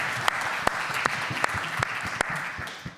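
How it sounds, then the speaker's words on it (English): Audience applause at a Queens tech careers event, a steady wash of clapping from a crowd with a few sharper nearby claps standing out, tapering slightly at the end. "that deserves a round of applause"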